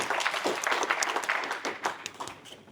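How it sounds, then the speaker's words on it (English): An audience at a tech conference talk on data-center switch deployment applauds, with sustained clapping of moderate loudness and individual claps popping out of the wash before it begins to thin near the end. "I think they deserve a round of applause."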